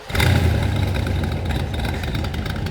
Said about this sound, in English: we're going to do a quick startup because I know everybody's going to want to hear it